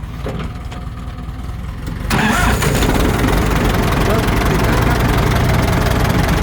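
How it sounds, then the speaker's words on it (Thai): The engine of a 6600 full-model vehicle is started: a starter whirs briefly, the engine catches at about two seconds, then settles into a loud, steady idle close by. "เดี๋ยวลองติดเครื่องฟังเสียงเลยนะครับ"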